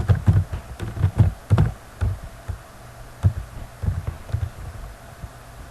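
Computer keyboard typing while entering data in an Excel 2007 spreadsheet, close and fairly loud, with irregular clusters of key taps and short pauses between them.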